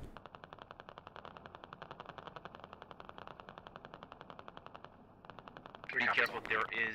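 Sustained rapid automatic gunfire in the SquadOps video game, a steady rattling stream of shots at moderate distance, briefly pausing before a louder, closer burst near the end, with speech likely mixed in.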